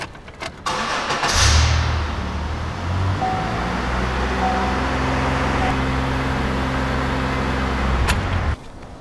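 A Chevy Impala engine starts and runs held steady at around 2,500 RPM during a coolant change, a loud continuous drone close by that cuts off at the end.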